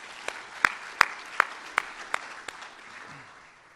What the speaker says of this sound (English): give yourselves a round of applause for showing up on a Friday this early